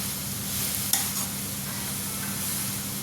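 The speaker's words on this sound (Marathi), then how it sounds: "आपण मस्तपैकी परतून घ्यायचं आहे आपल्याला" Beetroot sautéing in ghee in a pan for halva, a steady close sizzle with a single sharp stirring scrape near the start.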